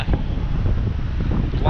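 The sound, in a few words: strong wind blowing at Boat Harbour Beach, Tasmania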